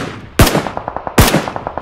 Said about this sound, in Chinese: 我瞄准射击